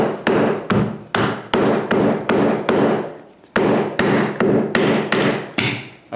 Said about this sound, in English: every time I'm hitting it with the hammer, water splashing up at me